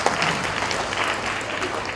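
At an international mushaira poetry gathering, an audience claps in a short, continuous burst of moderately loud applause, heard from within the hall.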